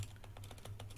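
Quick run of keyboard typing while a date is entered into photo-editing software, about a dozen soft, evenly spaced key taps close up over a low hum.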